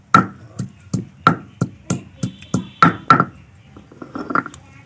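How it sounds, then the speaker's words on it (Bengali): Ginger being pounded and crushed for a Bengali-style fish curry: a run of about a dozen firm, evenly spaced thuds, close and dry, ending in softer scraping grinds. "আদাটাকে একটু ভালো করে ছিঁচে নেব"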